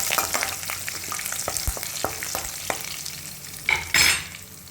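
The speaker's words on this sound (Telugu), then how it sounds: "ఈ విధంగా వేగిన తర్వాత 2 పచ్చిమిర్చి, కొద్దిగా కరివేపాకు వేసి కలపాలి." Green chilies and curry leaves drop into hot oil with popping mustard seeds, giving a close crackling sizzle broken by sharp pops and spoon clinks, then a loud burst of spitting near the end.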